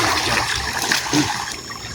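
River water flowing in a steady, close rush with trickling and splashing texture, continuous for the whole stretch.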